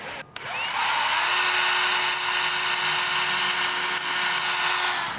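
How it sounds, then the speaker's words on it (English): A power drill bores a pilot hole into wood while a door is being installed, the motor whining loudly and steadily for about five seconds after a brief start, with no talking. "I'm going to drill a pilot hole, and that way we don't take any risk of splitting the wood."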